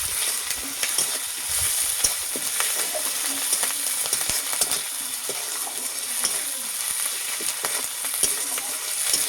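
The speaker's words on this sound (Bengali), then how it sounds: "আদা বাটা, আদা বাটাটাও একটু আমি নেড়ে চেড়ে নেবো।" Garlic and ginger paste frying in a pan, stirred with a spatula: a continuous close sizzle with scraping and clinking strokes throughout, without talk.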